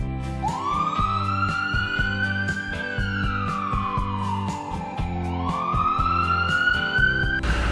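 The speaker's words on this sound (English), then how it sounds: "it seemed to me I was hearing sirens." Wailing emergency vehicle siren sweeping up and down in pitch, loud and steady, with a sharper rising wail near the end as another siren closes in, over a constant low engine rumble.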